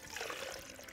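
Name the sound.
apple juice being poured in for carrot avocado juice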